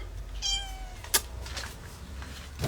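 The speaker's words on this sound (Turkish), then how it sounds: "Şey Scottish kedi var bende." A Scottish breed cat gives a short meow, fairly faint and close, followed by a sharp click and quiet room background.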